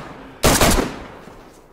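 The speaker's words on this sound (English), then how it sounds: "stop shooting your guns" A burst of rapid gunfire in the video game DayZ cracks out loudly partway through, a dense volley followed by a decaying echo tail, with no talking.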